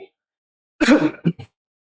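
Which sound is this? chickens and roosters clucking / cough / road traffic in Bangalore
cough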